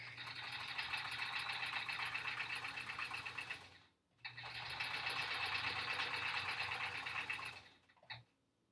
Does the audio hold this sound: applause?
no